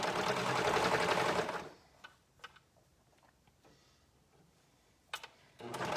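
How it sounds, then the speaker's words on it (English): A sewing machine runs loudly for about a second and a half while sewing a sleeve onto a dress, then stops, leaving scattered light clicks and fabric handling before it briefly starts again. "now we are going to sew the seam, or sew the sleeve onto the dress"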